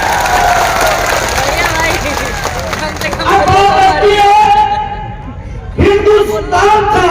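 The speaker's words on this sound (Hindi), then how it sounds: "एक बार जोरदार ताली बजानी तो इनके लिए होगा।" Crowd at a large farmers' mahapanchayat gathering applauding and cheering, loud and continuous, with a babble of voices mixed in. Strong tonal cheering sounds swell over the noise partway through and continue after a brief dip.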